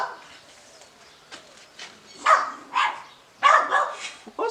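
Several dogs barking in short bursts, starting faint then growing louder and closer toward the end, with a voice briefly heard.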